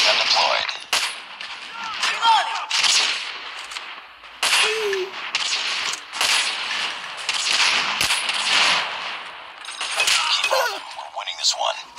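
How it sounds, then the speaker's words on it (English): A sentry gun in the mobile shooter COD Mobile fires in loud, rapid bursts separated by brief gaps, with other game noises and voices mixed in. "Friendly sentry gun deployed."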